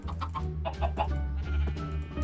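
Chickens in the video game Minecraft cluck in short repeated bursts, close and fairly loud over a steady low background drone from the game.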